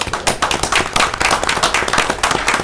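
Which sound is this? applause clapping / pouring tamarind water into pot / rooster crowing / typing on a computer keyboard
applause clapping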